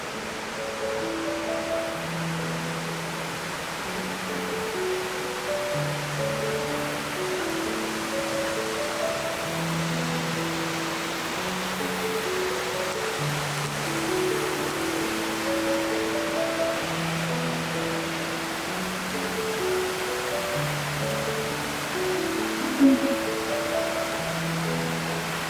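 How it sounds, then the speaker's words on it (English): A forest waterfall near Seward, Alaska, feeding one of the twin lakes, gives a steady broadband rush of falling water, with gentle piano-like music tones playing over it throughout. "This waterfall feeds one of the twin lakes here in the Seward area."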